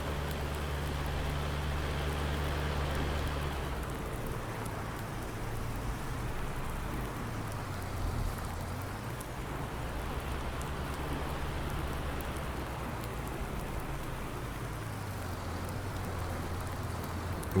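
Continuous rain in Farming Simulator 19 pours down as a steady hiss, with a low hum running underneath throughout and no voices.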